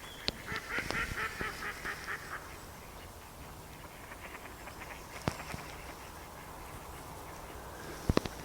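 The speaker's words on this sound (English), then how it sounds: "You might be able to hear the little ducks over there." Ducks quack in the distance, a few soft calls clustered early on, outdoors with steady background ambience and an occasional sharp tap.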